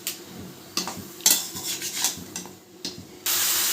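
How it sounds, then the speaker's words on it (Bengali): Fish curry being stirred and mixed in a pot gives a series of scraping, clinking utensil strokes against metal, irregular and close, with a steady hiss toward the end and no talking. "তো এখন ভালোভাবে মিশিয়ে নেব।"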